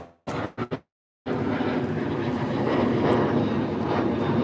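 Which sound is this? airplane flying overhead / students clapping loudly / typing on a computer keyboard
airplane flying overhead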